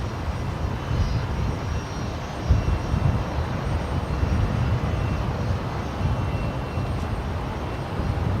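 A Qantas jet airliner takes off at Brisbane Airport, its engines a broad low rumbling roar that holds steady throughout, heard from a distance alone without voices.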